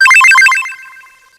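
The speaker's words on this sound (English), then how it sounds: "Drop our penny in. See how loud it is." A bright synthesized coin-drop chime from a self-made video game, a quick run of rising and falling electronic notes that rings out and fades within about a second, loud and alone.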